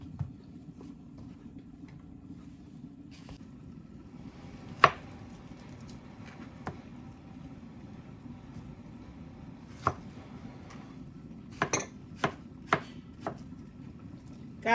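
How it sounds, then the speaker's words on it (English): A knife dices plantain on a board in a home kitchen, with sparse, sharp taps that come singly and then in a quick cluster over a steady low background hum. "Then I'll dice them nicely and start frying them."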